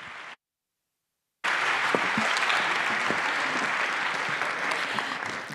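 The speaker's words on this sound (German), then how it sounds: "Ein Applaus für Jugendhack, eines der coolsten Nachwuchsprojekte" A gala audience bursts into sustained applause for a youth tech project: a brief clap, a moment of silence, then dense, even clapping that holds steady to the end.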